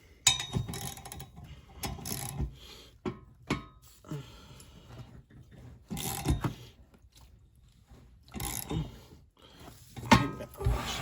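Wrench work on a Little Wonder walk-behind leaf blower with a 5 hp Honda GC160 engine: irregular mechanical clicks and clunks with pauses, close by, no talk.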